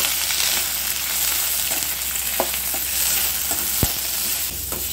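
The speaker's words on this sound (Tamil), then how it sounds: "இந்த இலை சுருண்டு வர அளவுக்கு வதங்கினா போதும்" Thoothuvalai leaves sautéing in a pan for thuvaiyal, with a steady loud sizzle and occasional sharp scrapes and clicks of stirring throughout.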